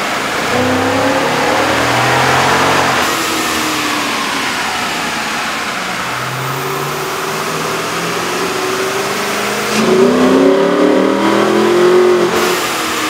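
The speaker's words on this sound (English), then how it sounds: "With the air intake installed, we ran the vehicle in the dyno to test the sound comparison versus the stock intake." A Jeep Grand Cherokee 5.7-liter engine with a cold air intake runs on a dyno, droning loudly and continuously, its pitch climbing and falling through several revving sweeps with a stronger surge near the end.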